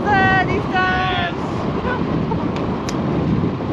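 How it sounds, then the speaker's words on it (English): Strong coastal wind on the western edge of Australia at Dirk Hartog Island, a steady loud rumbling roar buffeting the microphone throughout, with a few faint tonal whistles near the start. "Pretty windy!"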